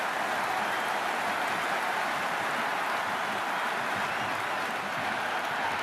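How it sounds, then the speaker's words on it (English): A packed stadium crowd roars and buzzes continuously at an IPL cricket qualifier between RCB and GT, a dense, loud wash of noise with no clear pauses. "There's a buzz, a real buzz coming from the stands."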